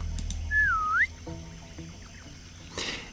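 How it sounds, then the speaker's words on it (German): A character in the video game Jagged Alliance Rage whistles a rising, sliding call to lure a guard, one clear whistle standing alone over low game ambience and brief clicks. "Wenn jetzt von hier aus pfeifen würden, ja, die Zivilistin wird es auch hören"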